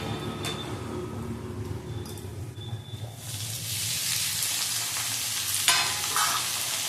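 Onion frying in a pan: a soft scraping stir gives way to a loud, steady sizzle that builds midway and holds, with a brief clatter near the end and no voices.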